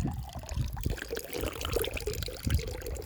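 Close, bubbly splashing of water flowing from a public drinking fountain in Switzerland, a continuous uneven pour with gurgles and droplets, moderately loud and without talk.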